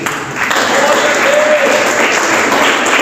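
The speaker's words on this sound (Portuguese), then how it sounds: "Essas palmas podem melhorar. Isso, bate palma." A church congregation claps together during a Portuguese-language service, dense sustained applause filling the room at close range, with some talk mixed underneath.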